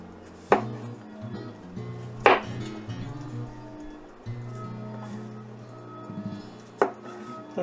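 Sharp knife strokes cut vegetables on a cutting board for a baked American goulash bolognese, a few distinct chops spaced seconds apart over a low steady hum, with no one talking.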